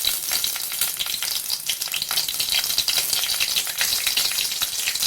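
Red chilies, garlic and green chilies frying in hot oil, a loud, close, crackling sizzle with rapid spattering pops that continues without a break and has no voices over it.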